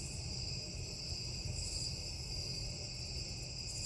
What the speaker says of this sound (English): it is dead quiet except for the crickets